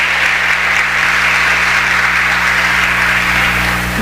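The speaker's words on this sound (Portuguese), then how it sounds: "Será que você pode dar uma salva de palmas para aquele que vive e reina para sempre?" A church congregation claps loudly and steadily in a dense, sustained round of applause, with a low background hum beneath it.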